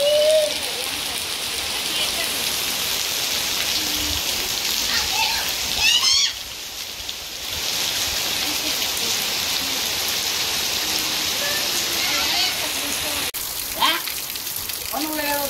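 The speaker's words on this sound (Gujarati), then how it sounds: "તો ચાલો પહેલાં તમને વરસાદ બતાવો." Heavy rain pours down steadily in a dense, close hiss with splashing on surfaces, dipping briefly midway, while birds chirp and voices are heard now and then.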